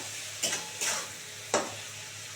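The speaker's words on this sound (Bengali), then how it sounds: "চিংড়িটা খুব সুন্দর করে ভেজে নেবো" Prawns fry in a pan with a soft, continuous sizzle, punctuated by three quick scraping stirs of a spatula against the pan, fairly quiet and close.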